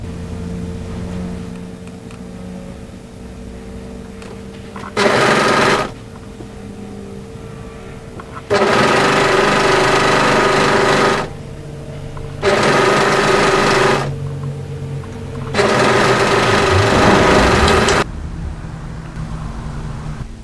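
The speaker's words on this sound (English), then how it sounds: "we want to place the pocket bag right side down and overlock it together" An overlocker sews a pocket bag onto the front of a pair of drop-crotch joggers, running in four separate bursts of a few seconds each with quiet pauses between them, loud and close.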